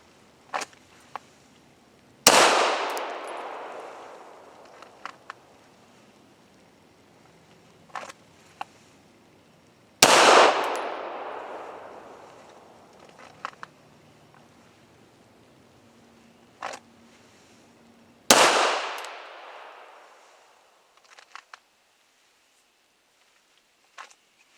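Three loud, sharp pistol shots spaced several seconds apart during a dot torture drill with a micro red dot sight, each ringing out and decaying, with faint clicks and handling noises between them.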